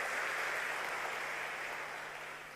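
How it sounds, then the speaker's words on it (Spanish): Church congregation applauding during a sermon, a dense, washy roar of many hands heard from afar, steady and then gradually fading with a faint hum beneath. "Un aplauso más grande al Señor"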